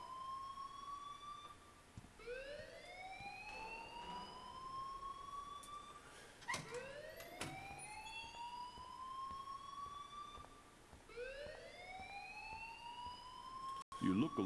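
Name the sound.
alarm ringing in the video game Life is Strange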